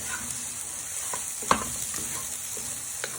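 Onions and garlic fry in a pan with a steady, soft sizzle, broken by a few light scrapes and taps as a utensil stirs them; no one speaks.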